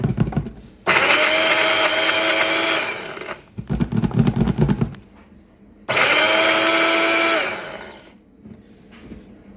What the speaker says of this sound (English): I'm going to pop it into my blend active thing and see what happens